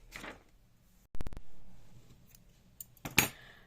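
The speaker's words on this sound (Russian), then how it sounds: "Теперь подтягиваю синюю, обрезаю" Scissors snip crochet yarn with a sharp close cut, followed by softer handling rustles and a second bright metallic snip near the end, with nobody talking.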